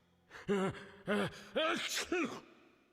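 A sneeze in the video game The Witcher builds through several voiced, gasping intakes of breath, spaced evenly, ending in a breathy burst, close and fairly quiet.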